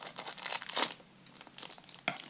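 Plastic Tsum Tsum series 2 blind bag packaging crinkles as it is cut open with scissors, heard in a few short, close, crackling bursts.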